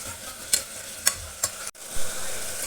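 Tomatoes being sautéed in a pan for Kerala beef curry: a brief sizzle broken by three sharp stirring scrapes, then a louder burst of frying, close and without voices.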